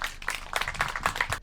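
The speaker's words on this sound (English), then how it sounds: "Round of applause," A short burst of audience applause at a first birthday celebration event: scattered, moderately close hand claps lasting about a second and a half.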